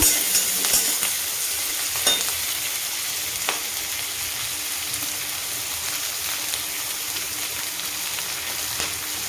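Thin onion slices crackle and fry with black cumin in a pan, a continuous even sizzle up close with faint stirring clicks throughout.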